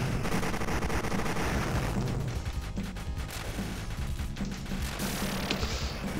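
The player ship in the arcade shooter Raiden DX fires its weapon, a loud, relentless stream of rapid shots layered with explosions and game music throughout.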